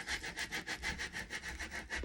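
A squeegee rubbed back and forth over vinyl transfer on a wooden sign, a rhythmic close scraping of about a dozen quick strokes, fairly quiet and alone, with no talking.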